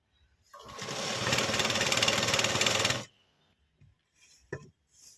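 A sewing machine runs steadily for about two and a half seconds, stitching falls onto a saree, then stops, followed by a few light clicks and handling noises.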